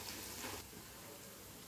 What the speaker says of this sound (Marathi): आणि हे तेलामध्ये असं व्यवस्थित परतून घ्यायचं आहे।